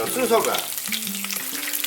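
Pork fat fries on a camping griddle, giving a loud, close, crackling sizzle with small pops, while a voice speaks briefly over it.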